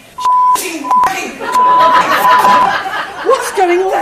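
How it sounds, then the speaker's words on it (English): Tonal censor beeps cover swearing in a radio play, one short bleep followed by longer sustained tones, over lively chatter, laughter and overlapping voices. "Oh, thank God they've beeped it out."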